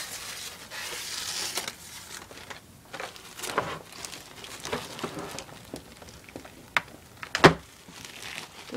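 A plastic bag crinkles while a Rosewill RK-8100 gaming keyboard is unpacked, close and fairly quiet, with scattered rustles and a sharper crackle near the end.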